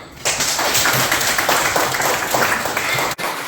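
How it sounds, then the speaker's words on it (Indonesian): Classroom applause from students in a school lesson, a steady dense patter of many hands clapping close by for about three seconds before it cuts off abruptly. "Tepuk tangan"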